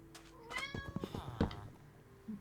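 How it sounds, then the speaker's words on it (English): A small house cat meows insistently for attention, a couple of close, wavering cries in quick succession with no talking over them. "Sorry, small cat trying to get attention."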